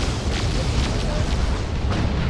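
Rocket run explosions in the Dawn of War 2 video game, a battle on a 3v3 Chaos Invasion map, sound as a dense, continuous rumble of booms and blasts. Several sharper bursts stand out above the steady roar.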